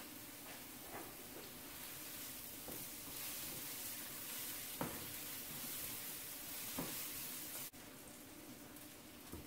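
Garlic sizzles steadily in a pan alongside mushrooms, with a constant crackling hiss and occasional louder pops or stirring taps, fairly quiet and with no talking.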